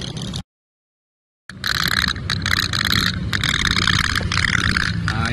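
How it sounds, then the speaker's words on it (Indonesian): Traditional Indonesian otok-otok putt-putt toy boat, a tin candle-powered steam toy, running with a steady dense buzzing putter; loud and close after a brief silent gap, no talking over it. "Nah, ini ya, guys. Perahu otok-otok."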